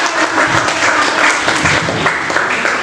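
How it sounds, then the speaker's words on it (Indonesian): Applause from an audience in a classroom, steady and fairly close, filling the whole stretch with dense clapping. "tepuk tangan dong untuk Bapak Ibu"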